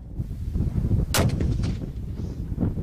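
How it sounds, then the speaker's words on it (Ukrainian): A new Ukrainian-made mortar is test-fired on a proving ground, giving one sharp, loud blast that rolls into a fading rumble over steady outdoor background noise. "Зброю зважують і роблять пробні постріли."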